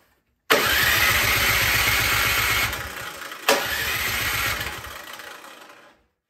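Cub Cadet snowblower engine being pull-started after a fuel line fix, two loud sustained bursts of sputtering engine roar, close up, each dying away without catching, no talking.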